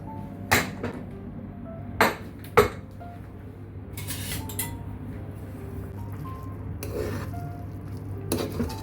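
A pressure cooker lid is opened after cooking broken wheat upma, with scattered sharp metallic clanks and clinks over a steady low kitchen hum, a few louder knocks early on.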